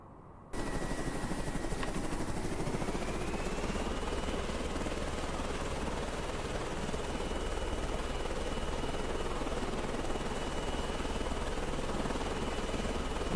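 A Razorbill helicopter in the naval strategy game Carrier Command 2 makes a flyby, its rotor chopping in a loud, steady, unbroken thrum with no talk over it.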